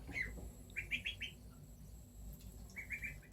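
Two-week-old ducklings give bursts of high, quick peeping chirps, a single peep followed by clusters of three or four, over a low background hum.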